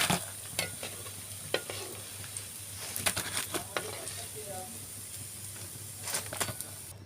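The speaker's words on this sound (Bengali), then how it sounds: "আমাদের আলুর চপ ভাজা হয়ে গিয়েছে লাল লাল করে," Potato chops frying in oil produce a continuous sizzle and hiss, broken by scattered scrapes and taps of a utensil stirring in the pan.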